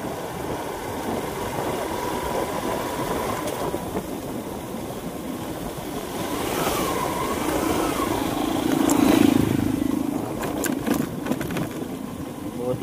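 A motorcycle with a newly repaired clutch idles steadily and close by in a continuous low rumble, its note swelling slightly near the end, with faint background noise.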